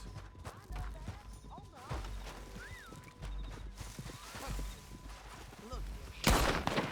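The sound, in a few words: horse hooves in a video game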